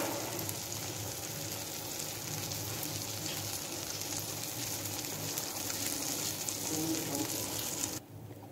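French toast slices frying in a pan over low heat, giving a steady, close sizzle that runs unbroken for several seconds before dropping off abruptly near the end.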